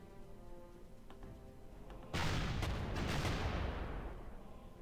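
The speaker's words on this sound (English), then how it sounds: "And this anti-aircraft cannon is the worst." Anti-aircraft cannon fire in the video game Panzer Corps sets off a sudden loud booming blast after a quiet lead-in, with a few sharp follow-up cracks and a rumbling tail fading away.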